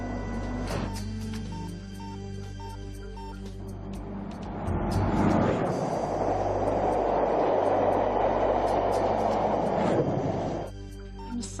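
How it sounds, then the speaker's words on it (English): A train rumbles steadily, swelling into a loud rushing roar midway as it passes close, then eases back to a low hum. "This train is formed of two portions."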